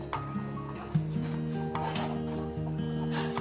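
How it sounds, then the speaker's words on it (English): A spoon stirs a tomato ketchup mixture with chili powder in a pan over medium flame, giving soft scraping and occasional clinks against the pan, close up, over a steady tonal hum. "Stir the mixture well on medium flame"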